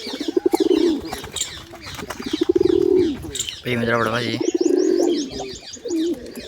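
Pigeons coo and flutter at close range in a backyard pigeon-keeping setting, with soft bird calls and chirps running throughout under someone speaking Gujarati.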